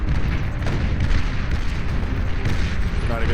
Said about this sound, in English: Only going to take a couple volleys of fire to kill that commander.